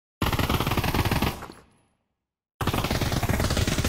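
P90 submachine gun fire in the VR shooter Pavlov VR: a loud, rapid full-auto burst that tapers off, a moment of silence, then a second sustained burst.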